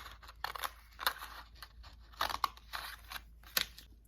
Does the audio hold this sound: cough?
no